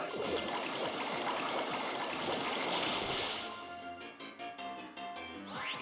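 A Water-type Bubble attack in the Pokémon Moon video game sounds as a bubbly, watery gush, followed by fainter game effects and chimes.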